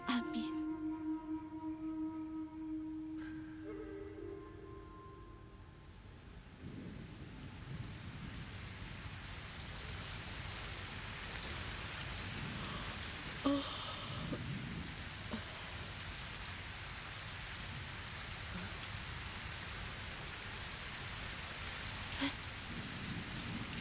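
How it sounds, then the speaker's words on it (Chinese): Heavy rain pours with thunder in a drama scene, a dense steady hiss of downpour with deep rumbles and a few sharper cracks, preceded by a brief musical tone at the start. "下雨了，太好了，下雨了"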